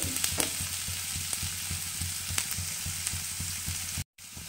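Onion, garlic, ginger and green chili sizzle in a hot pan, a loud steady crackle with rhythmic stirring scrapes, cutting out abruptly for a moment near the end.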